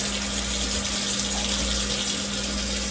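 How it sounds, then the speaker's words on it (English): Hot water runs steadily from a kitchen tap into a sink while sausage fat is drained, a continuous close rushing hiss with a faint hum underneath and no talking. "Turn on the hot water so I can drain this and hopefully not clog anything"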